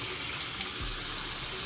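Hot tap water runs steadily into a sink while soap is rinsed out of a makeup brush, a constant close hiss and splash with no speech.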